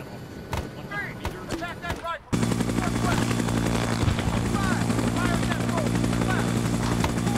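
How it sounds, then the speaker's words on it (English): A military helicopter lands in the game ArmA 3, its loud rotor chop and engine roar swelling in abruptly and holding steady and close, with chirping ambience and a voice talking over it. "the helicopter is landing"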